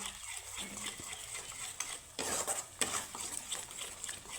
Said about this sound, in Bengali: এখানে আমি মশলাটা সুন্দরভাবে কষিয়ে নেব